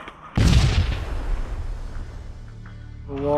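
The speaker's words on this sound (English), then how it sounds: "Grenade out!" An airsoft grenade goes off during a hostage rescue game, a sudden loud boom followed by a long decaying rumble, with a faint voice starting near the end.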